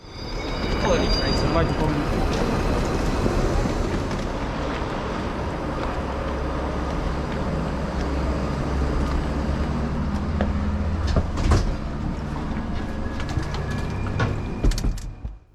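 Train at a station with a locomotive and a rake of assorted second-hand Austrian and German coaches, a low continuous rumble and hum with some clanks, heard under a voice speaking.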